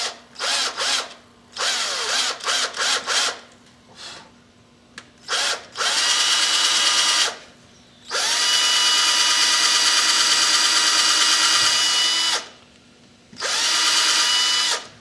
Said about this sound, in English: I'm just going to drill a hole right down the center of this